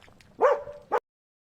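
A dog gives a short, loud bark, a drawn-out yelping tone followed by a sharp final yip, then falls silent.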